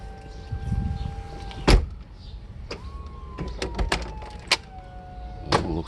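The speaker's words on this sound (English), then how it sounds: "These are the other cylinders filling up." Hydraulic cylinders on a Mercedes SL600 R129 soft top, freshly rebuilt, whine and hum as they fill, with a sustained motor-like tone broken by sharp clunks and clicks as the roof mechanism moves nearby.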